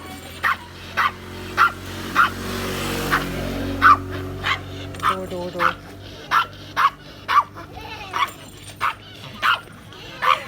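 A dog barks in short, regular sharp bursts, about a dozen evenly spaced yaps, near and clear, while someone speaks softly between them.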